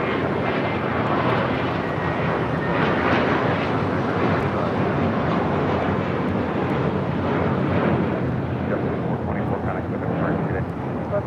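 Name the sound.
JetBlue A321 taking off from LAX runway 25 right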